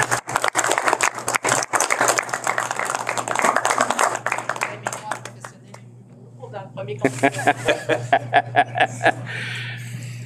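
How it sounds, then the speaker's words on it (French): Applause at a public council assembly, with dense clapping over the first five seconds, then a quieter gap with scattered claps and voices, and a final burst of rhythmic clapping toward the end. A low steady hum runs beneath throughout. "Donne-moi l'applaudissement."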